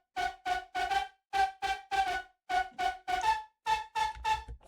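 A metallic, digital synth lead from Synplant 2 plays short rhythmic plucked notes in repeated phrases with brief gaps between them, bright and upfront with no voices.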